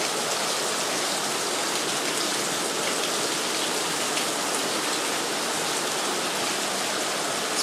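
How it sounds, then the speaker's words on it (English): Heavy rain pours steadily and drains off a building, a dense, even hiss of falling water and runoff that stays loud and close throughout, with no voices. "It's been a while since we got this kind of rain."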